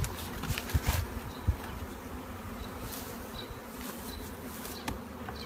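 Honey bees buzz steadily around small nucleus hives in an apiary, a dense continuous drone with occasional closer individual bees flitting past, no voices.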